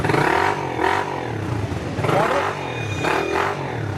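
A motorcycle engine at a used bike sale, likely the 2024 Road Prince Infinity 150 model, revs in repeated rising bursts with some clattering between, close and fairly loud.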